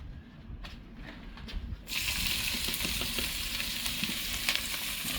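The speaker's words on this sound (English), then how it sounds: "And when you hear that sizzle, you just know it's gonna be good." Scrambled eggs and poke salad greens sizzle loudly in a pan of leftover bacon grease, a steady bright frying hiss that swells sharply partway through and continues without talk.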